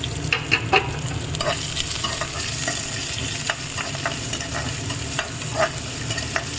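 Onions, green chillies and curry leaves fry in a pan with a loud, steady crackling sizzle, punctuated by occasional sharp spatula clicks and scrapes. No voices are heard.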